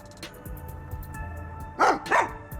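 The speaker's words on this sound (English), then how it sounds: "Dog." A dog in the video game Rain Code gives two quick, close barks over soft background game music with light tones.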